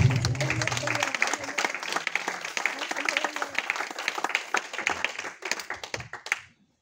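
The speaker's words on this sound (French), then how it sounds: "Est-ce que quelqu'un peut acclamer pour le roi des rois?" A church congregation claps and cheers in a sustained burst of applause, dense and fairly loud, with voices mixed in, before it fades out.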